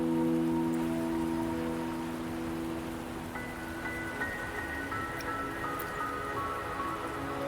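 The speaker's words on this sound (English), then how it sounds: "Don't worry, the rain won't last much longer." Rain falls in Wuthering Waves as a soft, steady patter with dripping textures, running beneath sustained musical chords that shift partway through.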